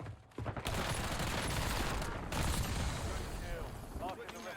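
Heavy gunfire crackles in Call of Duty Warzone, a sustained barrage of overlapping shots and booms filling several seconds, with a player talking over the din.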